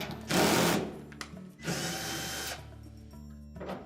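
A power drill backs screws out of the rear panel of a Whirlpool washing machine, with two loud, close whirring bursts about a second long each, then quieter handling.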